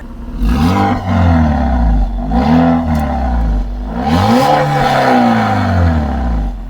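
Naturally aspirated 1.2 litre engine of a 2015 Toyota Yaris with aftermarket exhaust tips, revved repeatedly in several loud, close rising and falling bursts.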